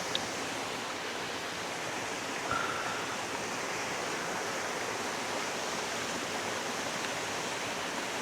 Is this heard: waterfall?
yes